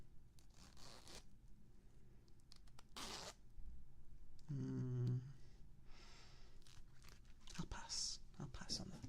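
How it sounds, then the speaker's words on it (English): A clothing zipper is handled close to the microphone during an ASMR stream, producing brief rasping, tearing bursts with a louder stretch midway, while a person talks throughout. "What about the zippers though?"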